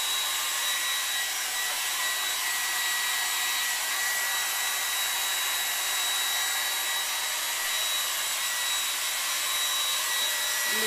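Hair dryer blowing during a high-shine blow-dry, a loud, steady, close airy roar that runs the whole way without pause and drowns out everything else.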